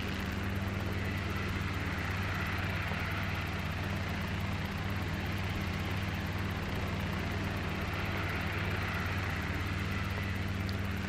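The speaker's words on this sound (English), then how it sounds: "Up first, we had the Guimbal Cabri G2," A steady, droning Guimbal Cabri G2 helicopter engine with doors off, a constant low hum and whirring rotor noise, loud and unbroken throughout.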